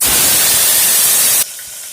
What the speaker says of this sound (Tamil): இப்போ ஒன்று ஒன்றா நம்ம வந்து வாஷ் பண்ணி வச்சுருக்க உருளைக்கிழங்கு, வெங்காயம் எல்லாத்தையுமே நம்ம இதில் ஆட் பண்ணிக்கலாம்.